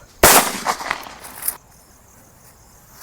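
A single sharp Lakshmi Gold cracker explodes nearby during Diwali daytime celebrations, its heavy report rolling and echoing for over a second before giving way to quiet background noise.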